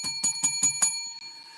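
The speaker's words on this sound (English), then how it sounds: "Let the New Year bell ring." A bright bell rings five quick, evenly spaced strikes. Each ring stays clear and close, and the last one fades out alone.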